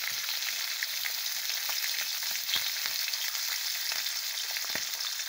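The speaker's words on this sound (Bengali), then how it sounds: "এই যে মাছ রান্না হবে।" Fish sizzling and frying in a pan, a steady dense crackle with scattered sharp pops throughout, close and continuous with no talking.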